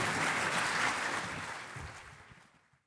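Applause from an audience at a hospital staff talent show swells steadily, then fades away toward the end, with no voices over it.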